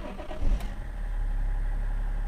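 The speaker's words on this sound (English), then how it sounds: "Let's turn the engine on." A BMW X5 engine cranks and fires, then settles into a steady, close idle rumble with no talk over it.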